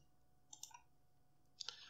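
A computer mouse clicking during 3D material and node editing software work: two brief, faint click bursts about a second apart in a near-silent room.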